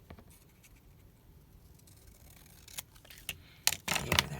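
Paper being trimmed for a window panel card, a few crisp snips and scrapes close by that grow louder toward the end after a quiet start.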